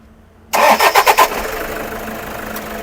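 A used Toyota Fortuner cranks with a quick run of rhythmic starter pulses, then fires and settles into a steady close idle after about a second.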